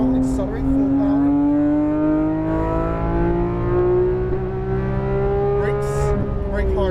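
A Porsche GT3 RS accelerates at full power on a track, its engine note rising steadily and loud throughout, with a voice speaking briefly near the start and end.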